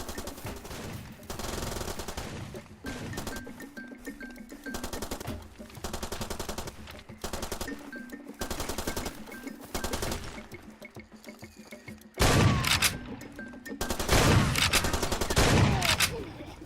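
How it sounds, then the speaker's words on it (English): Automatic gunfire in the video game Far Cry 4, with rapid machine-gun bursts coming in repeated waves, some louder and denser near the end, over a steady game soundscape. "Ooh, I hear gunfire."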